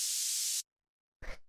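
Synthesizer white noise run through a bandpass filter for a deep minimal house track: a steady bright hiss that cuts off abruptly, followed by a short, darker, fuller burst after a pause.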